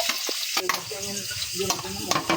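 Garlic and spices sizzle loudly in a hot pan, with steady crackling and a few stirring scrapes, as sautéed aromatics start before fish is added.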